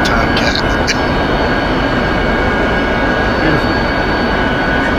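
F-14 Tomcat jet engine heard from the back seat in DCS World, a loud steady roar with broadband rumble and a faint high whine, a voice briefly speaking over it.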